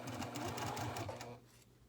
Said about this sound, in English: I increase my stitch length to, well, 3, a little bit more than 3, and again we're back stitching